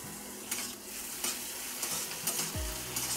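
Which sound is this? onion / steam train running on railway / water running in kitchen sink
onion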